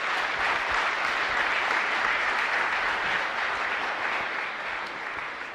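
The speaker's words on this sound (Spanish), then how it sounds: "Un fuerte aplauso también para ellos." A congregation at a Catholic Mass in a parish church bursts into sustained, dense applause that holds steady for several seconds and then begins to taper off at the end.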